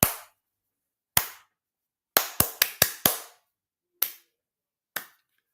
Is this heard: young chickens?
no